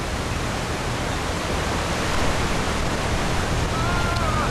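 A rushing waterfall in the video game Indiana Jones and the Staff of Kings, a loud, dense, continuous roar of falling water with no letup.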